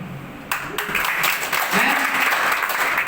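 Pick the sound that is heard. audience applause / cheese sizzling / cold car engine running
audience applause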